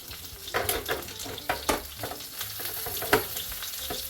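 Onions frying in a Ninja Foodi XL multicooker give a steady close sizzle, punctuated by several sharper clinks and stirring scrapes against the pot, with no talking.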